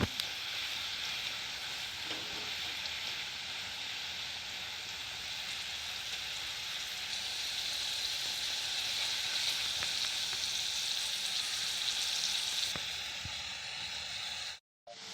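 Jackfruit chips fry in hot oil with turmeric added, giving a steady close sizzle and crackle that continues throughout and stops abruptly near the end.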